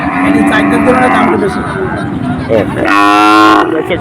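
Cattle low at a busy cow market in Betagi, with a long moo rising near the end over continuous crowd chatter and nearby talking.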